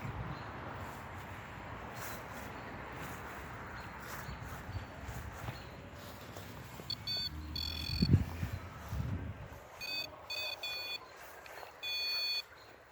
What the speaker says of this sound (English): That's me moving the REM pod again.